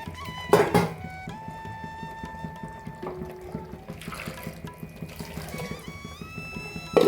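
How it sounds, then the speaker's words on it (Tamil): Mutton cooking water poured into a mixer jar while making Chettinadu mutton curry, a faint trickle with a thunk of the jar near the start and a low kitchen hum beneath. "இப்போ லைட்டாக மிக்ஸி ஜாரில் அந்த தண்ணி ஊற்றிக்கிறேன்"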